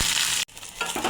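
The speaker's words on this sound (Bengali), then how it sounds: "চুলার আঁচটা কমিয়ে আস্তে আস্তে ভাজতে হবে, তাহলেই এটা মুসমুসে হবে" Hilsa fish fulko fries slowly in oil over low heat with a close, bright sizzle. The sizzle cuts out for a moment and then returns just as strongly.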